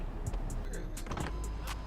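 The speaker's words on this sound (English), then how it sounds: "Roll the window down." Inside a car, a power window motors down with a muffled whir under low cabin rumble, punctuated by several short clicks and ticks, fairly faint and close.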